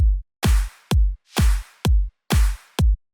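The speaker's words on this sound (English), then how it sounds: "Basic kick clap pattern, as well as some hi-hats that come in." Electronic dance drop drums play alone: booming kicks alternate with sharp, noisy claps in a steady pattern, punchy and close, with short bright hits between.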